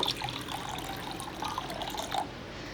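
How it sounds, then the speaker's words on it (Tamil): About two cups of water pour and trickle into a metal pressure cooker, a bright splashing stream that stays fairly steady for a few seconds before tapering off. "இப்போது அந்த குக்கரில் ஒரு 2 கப் அளவு தண்ணி"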